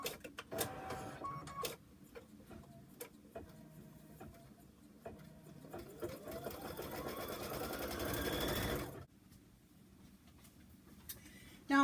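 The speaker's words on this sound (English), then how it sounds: "I'm going to go ahead and load my hoop into the machine. Stitch my placement line." An embroidery machine stitches a placement line on a hooped fabric piece, with quiet rhythmic needle ticks and mechanical whirring, a rising whine building before a pause, heard close and without talking.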